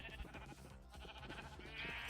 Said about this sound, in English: let's go shear some sheep